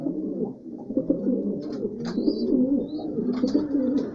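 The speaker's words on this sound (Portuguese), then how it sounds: "A pombinha, mãe dos filhotes branquinho lá, ó." Pigeons coo steadily at close range in a loft with young chicks, with a continuous low burbling throughout and a few faint higher chirps mixed in.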